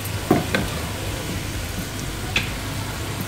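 Vinegar hitting chicken macaroni frying in a pan gives a steady hiss of sizzling, with a few brief clinks and scrapes of stirring near the start, and no voices.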